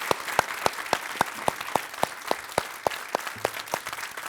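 A studio audience on a televised Hindi debate show about India–Pakistan cricket applauds to welcome debate participants, with evenly spaced sharp claps standing out over a steady wash of crowd clapping.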